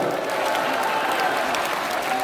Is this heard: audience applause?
yes